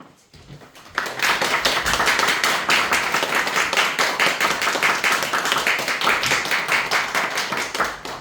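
Church congregation applauds as the pastor comes up for the morning worship sermon: after a quiet second, loud, dense clapping starts abruptly and continues steadily with a slight pulsing rhythm, a few voices faint beneath.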